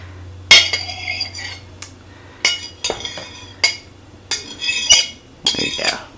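Chopped egg salad ingredients are mixed in a bowl, with a utensil clinking and scraping against the dish in irregular bursts, close and fairly loud with no talking.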